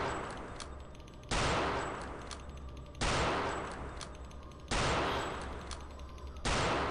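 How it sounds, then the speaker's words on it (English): Mauser rifle fire in Return to Castle Wolfenstein, four loud sharp shots spaced about every second and a half, each followed by a long decaying echo tail over constant game background noise. "I'm fairly sure we were getting some good Mauser shots in at the start of this fight"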